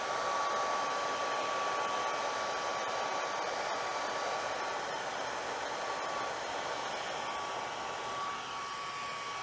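Heat gun warming a JT Proflex paintball goggle lens so it can be re-molded, blowing a loud, constant airy roar with a thin steady whine running throughout.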